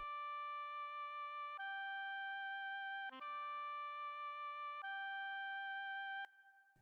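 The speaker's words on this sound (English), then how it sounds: "The next sound was an oboe from Purity from the woodwind section." Synthetic oboe from the Purity plugin's woodwind section plays a slow phrase of sustained, clean held notes, several changes of pitch, alone and quiet with no talking.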